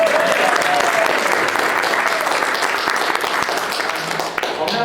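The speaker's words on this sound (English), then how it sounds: "give yourselves a great applause, a great hand" Sustained, dense audience applause at a folklore conference in Australia, loud and steady throughout with no speech over it, easing slightly near the end.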